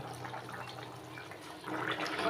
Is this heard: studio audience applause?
no